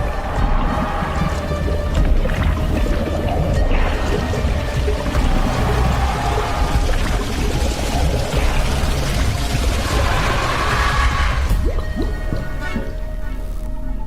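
Water drains out of the flooded Mines level in a video game, a steady heavy gushing and pouring wash with splashy surges, running loud and continuous throughout.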